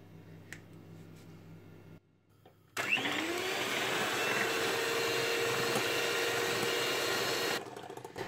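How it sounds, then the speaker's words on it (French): An electric whisk whipping cream, starting after a brief pause and then running as a steady, loud whirring drone close by for several seconds before cutting out. "Tout d'abord, je vais fouetter ma crème."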